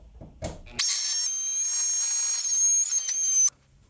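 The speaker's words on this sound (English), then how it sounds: "Now we have the Ezarc versus wood with nails." An Ezarc oscillating multitool blade cuts into wood studded with nails, a loud, high-pitched buzzing whine that starts abruptly after a couple of brief knocks, holds steady for about three seconds, then stops sharply.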